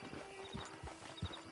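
Horse hooves clip-clop in Red Dead Redemption 2 Online, a few heavy, spaced thuds landing near and fairly loud over a low ambient bed with faint chirping, no talk.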